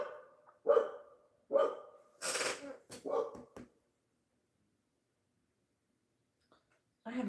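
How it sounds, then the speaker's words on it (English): A dog barks a few times at random near a gated yard with hardware cloth on the gate: two sharp barks, then a short burst of louder barking. Quiet follows, with only a faint noise at the end. "She just keeps barking randomly."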